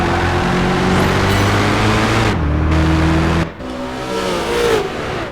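Loud, close engine drone of a Mercedes CLK DTM race car driving through New York streets in Project Gotham Racing 4, pitch climbing through gear shifts with sharp drops between, no voices.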